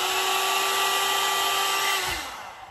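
A blowout dryer brush with boar-style bristles runs on its high heat setting, a steady loud whir of motor and rushing air that holds evenly, then winds down near the end; no one speaks.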